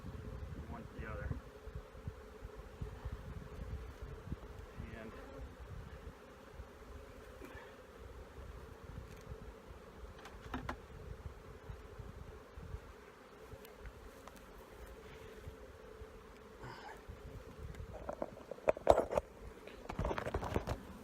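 Honeybees from a nuc box set beside a hive during installation make a continuous low buzzing swarm that holds steady throughout, with scattered handling knocks and a few louder bumps near the end.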